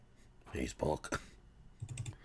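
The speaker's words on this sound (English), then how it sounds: "We hear a lot of clicking." Keys clatter on a computer keyboard in fast bursts of clicking and typing, close and fairly quiet, with a person speaking over parts of it.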